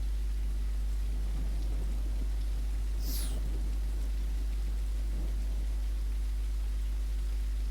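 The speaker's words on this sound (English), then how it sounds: "I will mainly shut up right now because of the rain, because the sound is loud." Steady, loud wash of rain on an ostrich farm with a constant low hum underneath and a brief high chirp partway through.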